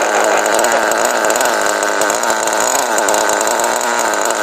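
A small high-revving nitro RC car engine (FW-06) buzzes loudly and continuously, a raspy two-stroke whine with slight wavering pitch, close by and without pause.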